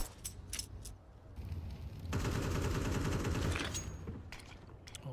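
Rapid sustained gunfire in Counter-Strike, a dense burst of spammed shots lasting about two seconds in the middle, framed by scattered single reports and background game noise.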